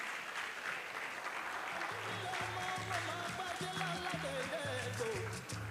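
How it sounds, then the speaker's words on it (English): An audience at a travel expo in Ibadan gives steady, moderately loud applause that continues throughout, with music playing underneath. "Please give them a warm round of applause."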